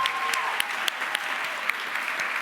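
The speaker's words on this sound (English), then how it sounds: "a huge thank you and round of applause to all of our wait staff in here this evening" Steady applause from a gala dinner audience thanking the wait staff, a dense wash of many hands clapping at close to moderate distance with a few sharper individual claps standing out.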